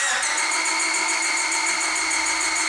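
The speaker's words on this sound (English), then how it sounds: "Now let's crank the engine over again." An engine cranks over steadily during a relative compression test, one cylinder weak, with a fast, even mechanical pulsing, loud and continuous throughout, with no voices.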